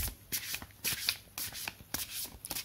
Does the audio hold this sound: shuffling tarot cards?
yes